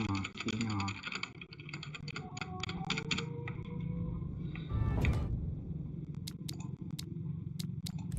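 Fast clicking keystrokes on a computer keyboard during play of the game Mafia, a dense run of sharp taps up close, with game sounds and some talk mixed in.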